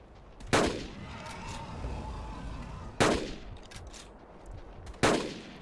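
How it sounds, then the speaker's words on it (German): Three sharp gunshots crack out at spaced intervals in the Carnivores: Dinosaur Hunter Reborn video game, each one loud and close as a dinosaur is fired on, with a low rumbling ambience filling the gaps. "Ich muss ihm doch irgendwie unter den Panzer schießen."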